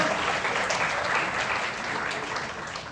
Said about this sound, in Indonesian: berikan tepuk tangan Bapak Ibu semua